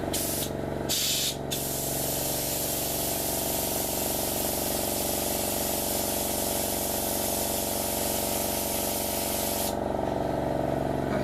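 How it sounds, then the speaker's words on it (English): An airbrush compressor sprays paint onto a Revell model of the ship SMS Dresden or SMS Emden, giving a loud, continuous close hiss with a steady mechanical hum beneath, broken only by brief pauses near the start. "Sorry about the compressor."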